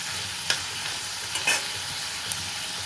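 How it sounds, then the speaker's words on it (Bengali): Tomato, coriander leaves and plenty of green chillies fry in a pan, a constant close sizzle with a few scraping stirs and brief utensil clicks. "টমেটো আর এখানে আমি ধনে পাতা দিয়েছি আর অনেকটা কাঁচা লঙ্কা দিয়েছি। হালকা করে এটা ভেজে নেব"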